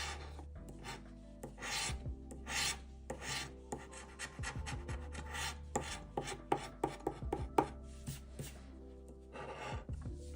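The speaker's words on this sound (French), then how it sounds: "On va gratter le cœur en premier." A coin or fingernail rasps across a scratch-off lottery ticket in repeated short, close scraping strokes with small pauses between bursts, and no voices are heard.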